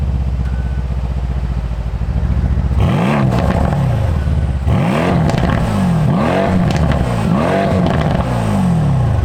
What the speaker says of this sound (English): slapped a big V8 in the front that makes this noise